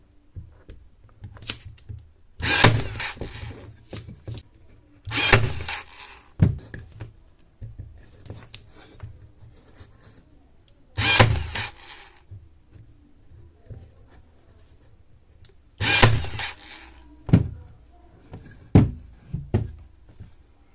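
A Hasston cordless staple gun fires U staples into cable on a board: four sharp, loud snaps spaced a few seconds apart, with faint handling rustles and small clicks between them.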